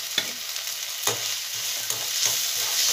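Red chilli with green chilli paste fries in a pan, a soft continuous sizzle broken by a few spoon stirs and scrapes, close and fairly quiet, with no talk.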